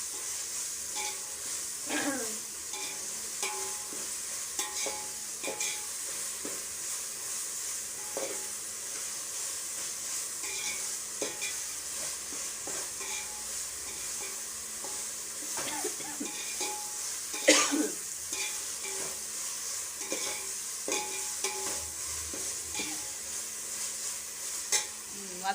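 About 2.5 tablespoons of ginger garlic paste sauté for a Chennai style duck curry, giving a soft, steady sizzle with repeated stirring scrapes and clinks of a spoon against the pan over a long stretch.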